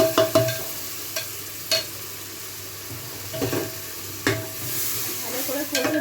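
Onion browned in a pan with ginger-garlic paste and powdered spices sautéing for beef nehari, giving a steady sizzle with repeated scraping stirs and spatula knocks close by, no talking.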